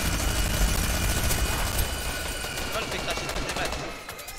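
Steady stream of rapid gunfire in a shooter video game, dense and continuous across the whole moment with no pause.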